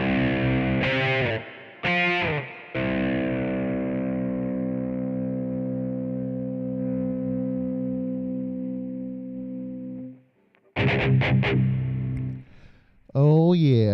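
Heavily distorted electric guitar tuned for death metal breakdowns in a Gojira style, loud and close: short chugged palm-muted hits, then a long sustained ringing chord that decays, followed by more choppy rhythmic bursts.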